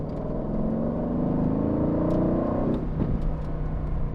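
An Aston Martin car swings wide onto a city block in New York, its engine droning loud and close with a rising whir, then easing off near the end.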